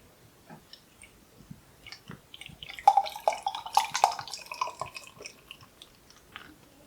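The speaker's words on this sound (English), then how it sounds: "So we are pouring into the Northern Monk glass" Northern Monk New World IPA, a pale beer, poured from a can or bottle into a branded glass, giving close wet splashing and glugging that builds and foams in the middle, fairly quiet, with no talking.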